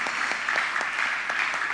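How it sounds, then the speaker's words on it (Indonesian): Church congregation applauding together during a worship service, a steady dense wash of clapping that holds evenly for the whole stretch with no voices over it. "Beri tepuk tangan bagi dia."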